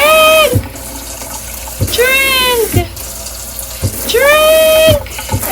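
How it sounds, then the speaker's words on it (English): Tap water runs loudly and close while Monstera adansonii leaves are washed under it. Repeated rising and falling tonal sounds recur over the water in a few bursts. "wash the leaves, and give her a thorough drink."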